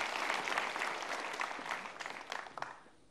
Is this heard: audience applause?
yes